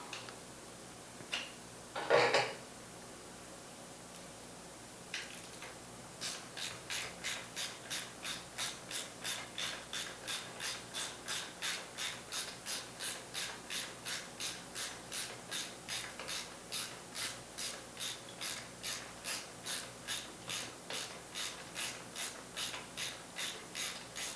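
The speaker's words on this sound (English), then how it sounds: "And the big ratchet, please." A big ratchet wrench on a 3/8-inch extension turns with a long run of rapid, evenly spaced pawl clicks after a couple of early knocks, close and steady with no voices.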